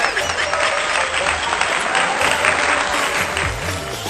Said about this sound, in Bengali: তোমরা হাততালি দাও